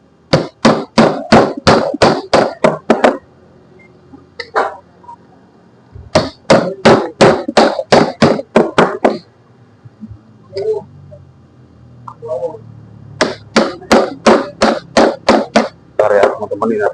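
Rapid, loud bursts of metal hammer blows strike a chisel while opening a Shimizu water pump spring housing, in fast runs of about ten hits separated by pauses with brief voices and clinks.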